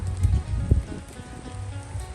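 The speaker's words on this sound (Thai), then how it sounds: "นี่ฝนตก จะเปียก" Steady low pattering of rain on a surface, close by, in southern Laos, with a soft rumbling background and no voices.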